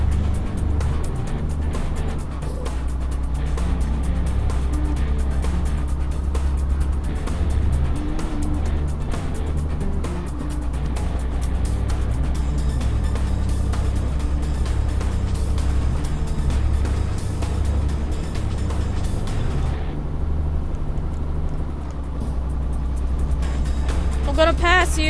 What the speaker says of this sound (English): Man, this truck is struggling going up this hill.